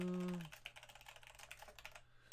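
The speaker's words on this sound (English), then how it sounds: "Oh, let me fix my keyboard." A computer keyboard is typed on in a quick burst of light clicking keystrokes, close and fairly soft, following a brief tone at the start.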